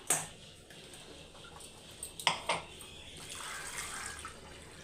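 Water splashes and trickles from a jug into a pot in a short burst, with a few sharp clinks and a hiss of liquid, fairly close.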